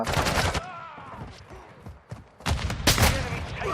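Gunfire in Call of Duty Warzone 2, with the SP-X 80 rifle in play, comes as dense bursts of shots at the start and again near the end, loud and near, with a quieter stretch between them and faint voices in the mix.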